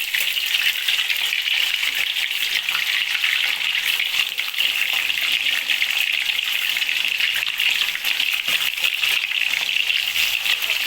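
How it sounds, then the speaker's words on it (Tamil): Fish fries in hot oil in an iron pan, a loud, steady, dense hiss and crackle of sizzling that holds evenly for the whole stretch without letting up. "இப்போ நான் வந்து மீன் பொறிக்க போகிறேன்"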